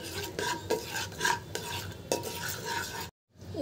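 Milk is poured into hot caramel in a pan while making homemade yogurt, giving a steady close sizzling hiss with soft scraping clinks, broken by a brief silent gap near the end.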